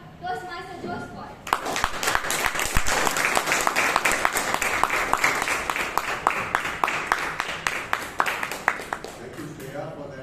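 Audience applause at a Bangalore Toastmasters Club meeting, starting about 1.5 seconds in with sustained dense clapping that thins into sparser individual claps toward the end; a voice speaks briefly before it begins.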